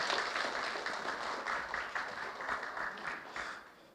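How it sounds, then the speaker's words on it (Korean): An audience at a colloquium gives a round of warm applause, a moderately quiet, even patter of many hands that slowly fades. "여러분 뜨거운 박수 한번 더 부탁드리겠습니다."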